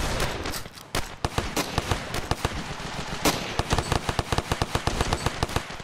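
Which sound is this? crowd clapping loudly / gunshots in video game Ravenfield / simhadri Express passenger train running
gunshots in video game Ravenfield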